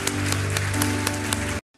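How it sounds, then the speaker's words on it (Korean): A church congregation claps together, dense and loud with a few sharper claps standing out, then it stops abruptly, leaving near silence. "우리 하나님께 감사와 영광의 박수를 드리겠습니다"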